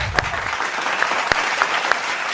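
A studio audience at a Thai television detective show claps in steady broadband applause, with a few sharper individual claps standing out, continuous through the moment.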